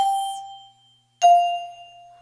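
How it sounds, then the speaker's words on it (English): A school bell rings for recess with two clear electronic chimes, the first tone fading out before a second, louder strike rings on alone. "When the bell rings, it's time to grab our vegan snack."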